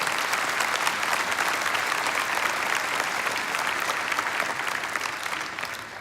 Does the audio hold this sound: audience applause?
yes